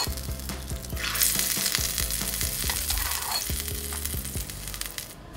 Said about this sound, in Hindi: इस तड़के को अब हम जिस बाउल में हम सर्व कर रहे हैं उस पर हम इस तरह से